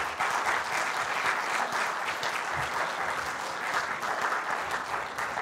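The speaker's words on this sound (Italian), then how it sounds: "vi chiedo un applauso" Steady, dense audience applause at a conference presentation in Milan, continuous clapping throughout at an even level with little talk.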